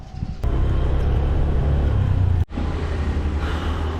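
A car cruising on a long highway drive gives a steady low road rumble and engine drone, with one brief dropout midway before the even hum resumes.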